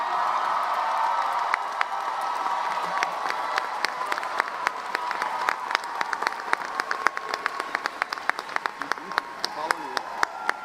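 Graduates at a college commencement applaud their families and friends, a large crowd clapping steadily for about ten seconds with sharp individual claps sharpening toward the end, moderately distant in a big hall.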